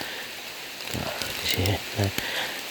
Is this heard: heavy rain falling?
yes